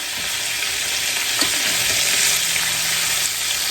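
Keto fried chicken, KFC-style, sizzles steadily in hot oil just after being turned over, a dense close crackle with a few louder pops, continuous and alone.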